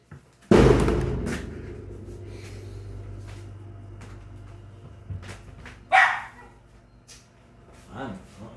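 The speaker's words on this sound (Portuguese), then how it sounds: "O cachorro fica do lado da minha janela, velho." A dog barks loudly in one sharp burst right beside a window, followed by a few fainter yips while someone talks over it.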